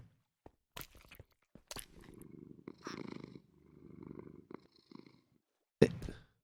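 Cats purring in the Minecraft video game, soft low rumbling purrs coming in several bursts with brief clicks and clatters between them, ending in a sharp louder thump.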